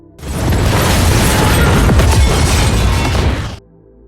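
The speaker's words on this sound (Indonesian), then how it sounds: "Lisa memutuskan untuk menekan pemicu bom agar meledak bersama dirinya" A loud, sustained bomb explosion blast with a deep rumbling roar and crackling debris, lasting about three seconds before cutting off abruptly.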